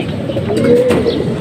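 A racing pigeon gives a short, close, fairly loud coo over a rough background rumble, lasting about a second.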